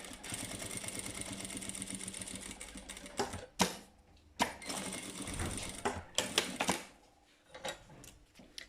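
A sewing machine stitches fabric in fast, steady mechanical runs, pausing briefly between bursts with clicks and a few thumps as the work is repositioned.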